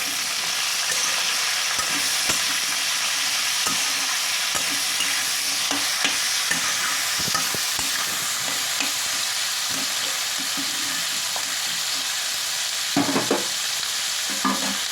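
Dal with salt and turmeric frying and being stirred in a pan, a steady close sizzle running throughout with occasional scraping clinks and no talking.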